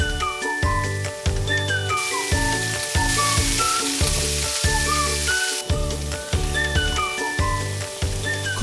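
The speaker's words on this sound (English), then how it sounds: "Add the prawns." Prawns fry with minced garlic and chili in a pan, a continuous bright sizzle running under prominent rhythmic background music for the whole stretch.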